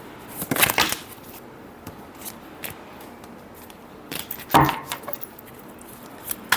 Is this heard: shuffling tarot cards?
yes